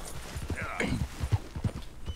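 Horse hooves clip-clop at a walking pace in Red Dead Redemption 2, a run of close, regular thuds with faint background game ambience.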